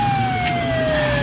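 Siren tone from police and ambulance vehicles pulling up at a shooting scene in a radio action drama, one steady wailing pitch sliding slowly downward, loud and continuous over a low rumble, with a brief hiss partway through.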